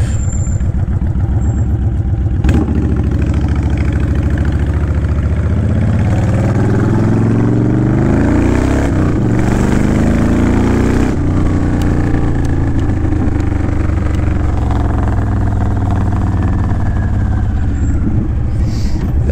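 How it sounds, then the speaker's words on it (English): Honda Fury motorcycle fitted with Cobra Speedster exhaust pipes, loud and close, revving through several throttle blips with deep harmonic engine tones and crackling deceleration pops as revs fall. "That is some DECEL pop for sure."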